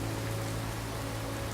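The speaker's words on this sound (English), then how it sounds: "nice getting those rain sounds out of my ears" Rain in the game Fallout 4, a constant dense patter and hiss with a low steady hum beneath, unbroken throughout.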